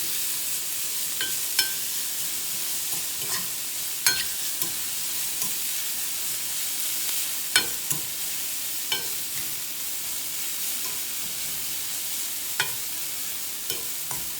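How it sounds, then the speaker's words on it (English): Vegetables sauté over high heat in a hot pan for a Southwestern cheese omelette, giving a steady close sizzle with occasional sharp clicks and taps as they are stirred. "I'm using a higher heat to saute these vegetables than I would with the egg"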